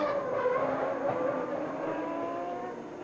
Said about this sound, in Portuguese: Aí o Senna vai aquecendo os pneus.